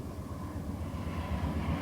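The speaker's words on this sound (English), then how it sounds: "Goes the GO train." A GO commuter train rumbles past with a steady low roar, fairly close, sustained throughout without any talking.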